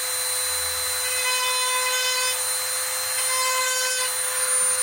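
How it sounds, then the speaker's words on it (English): Hand gouging into micro cracks of a walnut and resin cutting board, a steady close scraping and rasping of a tool against hardwood with a persistent high whine, continuous with brief variations in intensity and no talk. "Yes, I'm making gouges in it."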